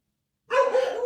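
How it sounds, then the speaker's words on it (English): A dog barks once nearby, a single loud, drawn-out bark that breaks a silence, with no talking heard. "Sorry about my dog."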